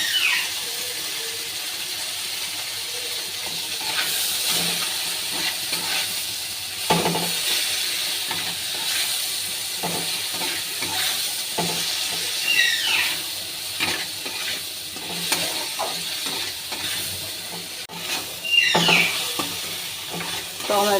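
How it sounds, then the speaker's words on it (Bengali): Onion fried until reddish, with tomato then added, sizzles and hisses steadily in a hot pan while a spatula stirs and scrapes in repeated, uneven strokes, close and fairly loud throughout. "পেঁয়াজটা আমি লাল লাল করে ভেজে নিয়েছি। এবার টমেটোটা দিয়ে দেব।"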